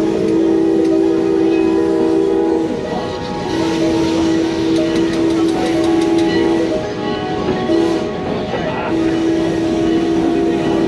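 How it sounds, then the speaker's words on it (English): A short steam festival train rolls around the facility loop, giving a loud, continuous rumble with sustained tonal hum bands that briefly break off and resume. "Not a very long train."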